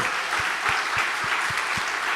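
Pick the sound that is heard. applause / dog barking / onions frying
applause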